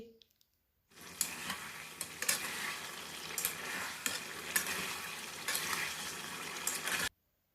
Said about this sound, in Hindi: अब हम टमाटरों को अच्छी तरह भून लेंगे